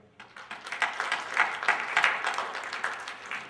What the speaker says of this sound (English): Let's give a round of applause to Gypsy Thomas on a job well done.